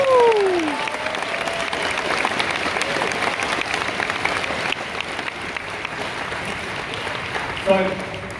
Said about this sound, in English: give them a round of applause and just let them know how much you appreciate that